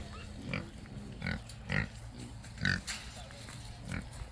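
Pigs on a family farm grunt in several short, close bursts spaced about a second apart, over a low background rumble.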